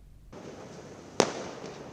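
Diwali fireworks burst in the night sky, one sharp bang standing out over a steady, hissing crackle of distant celebratory explosions.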